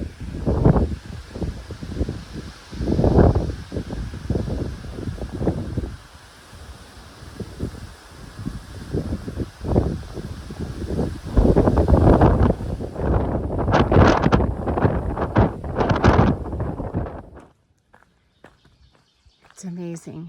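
Gusty wind on a hiking trail in Shenandoah buffets the microphone in heavy, rumbling waves, with footsteps crunching beneath it, until the roar suddenly drops away to near quiet in the final seconds.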